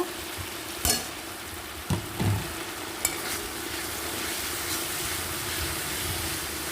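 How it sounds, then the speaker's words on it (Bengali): Spice paste frying and being stirred in a pan, with a steady close sizzle broken by a few sharp scrapes and knocks of the spoon against the pan. "তো এটাকে আবার সুন্দর করে আমি কষিয়ে নেব যতক্ষণ কাঁচা গন্ধটা না যাবে কষিয়ে নেব"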